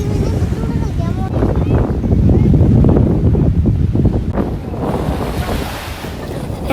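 Ocean waves wash against a Dubai beach under strong wind gusting across the microphone, with surf rising and falling loudly and constantly.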